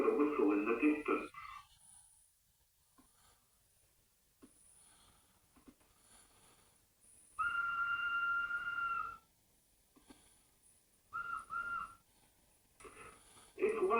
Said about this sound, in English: Soon they heard a whistle in the distance.